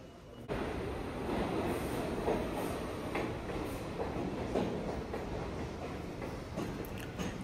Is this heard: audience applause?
no